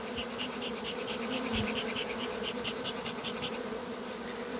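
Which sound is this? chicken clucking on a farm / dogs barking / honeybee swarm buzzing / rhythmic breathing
honeybee swarm buzzing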